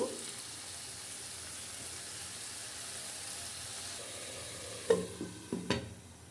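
Chicken with spices sizzles softly in a frying pan under steady stirring, and a few sharp scraping knocks of the utensil against the pan come near the end.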